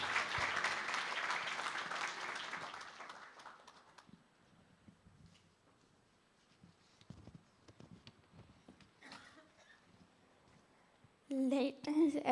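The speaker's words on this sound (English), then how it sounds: "Big round of applause for Sejal" An audience at a children's hospital anniversary celebration claps loudly for a few seconds, then the applause fades to scattered claps and quiet room noise before a voice speaks briefly at the end.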